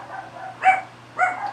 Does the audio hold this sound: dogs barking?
yes